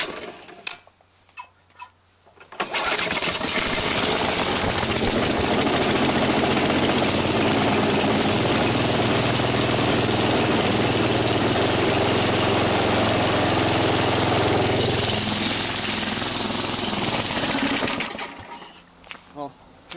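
A brand-new snow blower engine catches and runs loud and steady for about fifteen seconds, a droning mechanical roar that settles, then cuts off, with quieter handling noise before and after.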